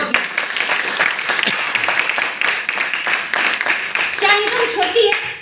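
Audience applause at a motivational income-achievement gathering, a dense steady patter of many hands clapping throughout, with a few voices rising over it near the end.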